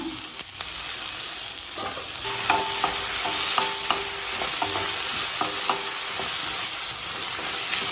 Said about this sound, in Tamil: தக்காளி சேர்த்துட்டு நல்லா வதக்கிக்கலாங்க